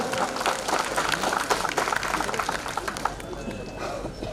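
Applause from an audience at a jatra festival in West Bengal: a dense wash of clapping from a crowd, fairly close and steady, with an announcer's voice running over it.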